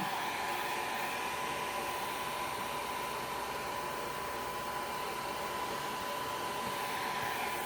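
A handheld blow dryer runs steadily at close range with a constant whirring hiss and a bright tonal whine, unbroken throughout with no talking.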